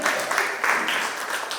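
Applause from an audience at a photography contest award ceremony, a steady dense clapping that runs through the whole moment with no break, close and fairly loud.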